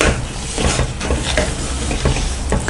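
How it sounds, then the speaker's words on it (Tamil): A spoon stirs soaked lentils into rice kozhukattai dough in a hot pan, giving steady scraping and soft sizzling with rhythmic strokes, close and continuous. "இது நல்லா மிக்ஸ் பண்ணி மட்டும் விட்டுருங்க."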